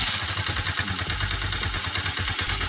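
A Honda TMX 125 Alpha motorcycle engine idles close by, a steady low rumble with a faint clattering texture running throughout, no voices.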